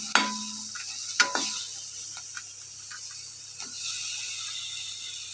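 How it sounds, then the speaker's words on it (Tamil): Pirandai leaves being sautéed in a pan, light sizzling with a few sharp spoon clinks and scrapes against the pan, quiet and close, without speech. "முக்கியமாக இந்த மாதிரி நல்லா வதக்கிக்கோங்க."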